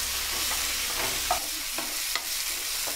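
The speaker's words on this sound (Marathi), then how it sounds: "तेल तापलेला ना, कांदो लगेच झालो ब्राऊन" Onion and tomato fry in hot oil for a Malvani clam masala, making a loud, steady sizzle with a few scraping stirs and light knocks against the pan, no voices.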